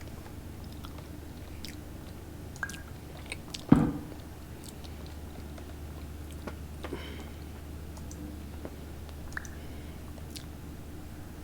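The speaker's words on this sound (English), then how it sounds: "sorry for my crunching." Someone crunching food while chewing, one sharp close crunch early on followed by faint, sporadic chewing clicks over a steady low hum from a game.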